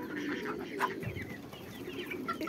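Month-old chicks in a poultry shed give a steady mix of small chirps and peeps, close and continuous, with some clucking from older chickens in the background.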